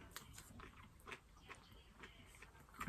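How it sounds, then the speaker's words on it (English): Quiet, close crunching and chewing in a steady rhythm of small bites, like a dog eating dry food, with faint background noise. "My dog is eating his food."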